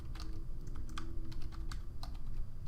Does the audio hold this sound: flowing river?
no